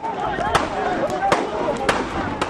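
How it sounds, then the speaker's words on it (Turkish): Several sharp gunshots crack out at irregular intervals over a noisy, crowded background on the Akdeniz University campus. "Türkiye onu bu görüntülerle ateşlediği silahtan çıkan kurşun sesleriyle tanıdı."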